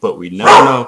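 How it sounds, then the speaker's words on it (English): A pet dog barks indoors, a short loud burst close by that overlaps someone talking. "That was my dog, and that scared the crap out of me"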